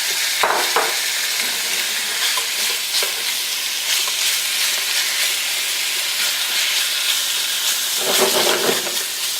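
Beef chunks for stew sizzle and fry in a hot pot, a dense continuous hiss close up with occasional scraping stirs, no voices.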